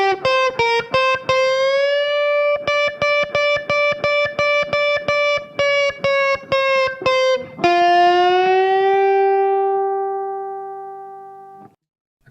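Electric guitar with a distortion effect plays a section of a song, sustained bent notes cut into rapid repeated stabs, then a long held note with vibrato fading out, loud and alone.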